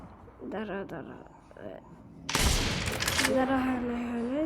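A sniper rifle shot in the video game Call of Duty cracks out once, loud and broadband, followed by a sustained ringing tone and game noise, with voices talking just before.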